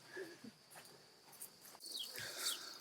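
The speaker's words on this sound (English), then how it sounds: "It's a mole cricket, in case you've never seen one. They're the ones responsible for all this noise." Mole crickets on a homestead make a faint, steady high trill with soft rustling underneath. The sound grows a little stronger toward the end, and no voices are heard.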